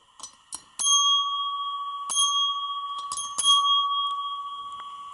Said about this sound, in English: Hotel mechanical old school bell